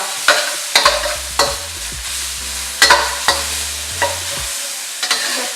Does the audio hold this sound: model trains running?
no